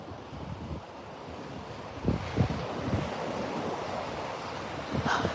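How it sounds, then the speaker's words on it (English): Ocean waves wash onto the shore near a boathouse, a steady hiss of surf with a few louder swells breaking, mixed with wind buffeting the microphone. "hear the ocean like that"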